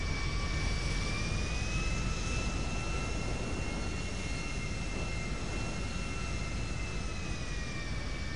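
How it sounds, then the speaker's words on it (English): Airplane in a video game taxiing and turning around on an airfield, its jet engine giving a steady, even whine and drone at moderate level with no talking. "I'm just turning my plane around"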